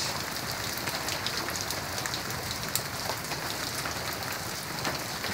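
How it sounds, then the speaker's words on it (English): Steady rain pours down, a dense, even hiss of drops hitting surfaces with no voices. "So that's my rain shot."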